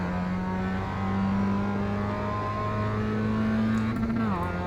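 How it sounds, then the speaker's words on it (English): Race car engine in the iRacing sim racing game holds a steady, loud high-pitched drone with sustained harmonics, rising briefly near the end as the revs climb and then drop. "sorry Rob, we can only really hear your car engine"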